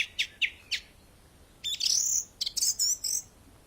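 Birds chirp and tweet on a golf course: three short, sharp calls, a pause, then a longer burst of shrill, warbling notes, loud and close against a quiet background.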